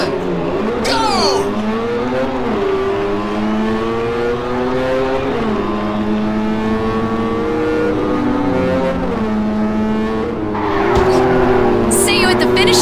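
Race cars in Ridge Racer 7 on the PS3 start a race, engines revving loudly with rising and falling pitch as they accelerate together, under continuous game sound.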